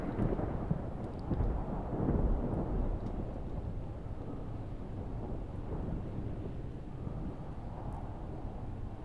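Stormy weather with a low, heavy thunder rumble swelling early and rolling on beneath steady rain and gusting wind, a dense continuous roar with no voices.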